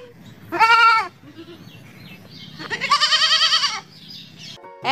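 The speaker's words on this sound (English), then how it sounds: "G for goat." A goat bleats twice, a short wavering cry followed by a longer, quavering one, loud and close, with quiet background noise between.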